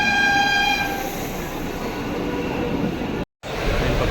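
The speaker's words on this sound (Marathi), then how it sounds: "ट्रेन आलेली आहे." A commuter train pulls into Dadar station in Mumbai, its horn sounding in a clear tone at the start, then a steady loud rumble and rail clatter that continues after a brief cut.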